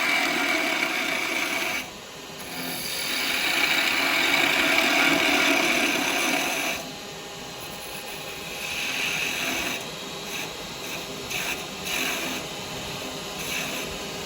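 A skew chisel cuts a Christmas tree shape on a wood lathe, held above centre. Steady broadband whirring and hissing of the spinning workpiece runs throughout, swelling louder in the middle and easing into lighter, uneven cutting toward the end.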